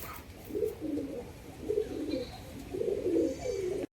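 A pair of biscuit-coloured Murshidabadi Giribaz pigeons coo softly and close by in three repeated low bursts, with a faint background hush.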